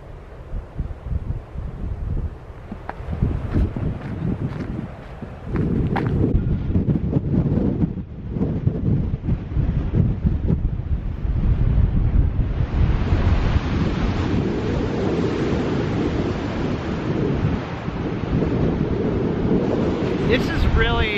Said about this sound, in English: A very beautiful beach, very windy